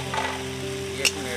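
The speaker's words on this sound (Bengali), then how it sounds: "একটু নেড়ে চেড়ে দেবো," Bottle gourd mash with shredded ginger sizzles in a pan as it is stirred, a soft steady frying hiss with one brief scrape of the spoon near the end, under a low hum.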